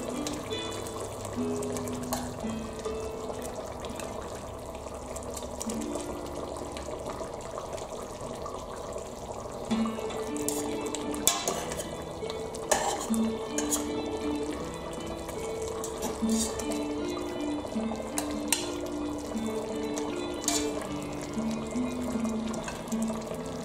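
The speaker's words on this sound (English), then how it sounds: "Now I put the eggplants inside the stew." Eggplants going into a pot of homemade eggplant stew, a soft watery sloshing and liquid movement that runs steadily throughout with a few light clinks from the pot, fairly close and fairly quiet.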